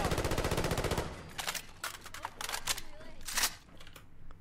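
A FAMAS rifle in a Fallout 4 mod fires a fast, dense automatic burst, then several shorter bursts and single sharp cracks with mechanical clicks between them, loud and close.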